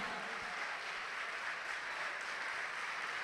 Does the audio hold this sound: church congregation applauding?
yes